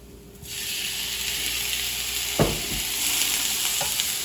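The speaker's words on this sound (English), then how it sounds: "Now we will add the shrimp." Shrimp dropped into a hot pan with garlic for shrimp scampi, bursting into a loud, steady sizzle that holds throughout, with a couple of utensil clicks and no voices.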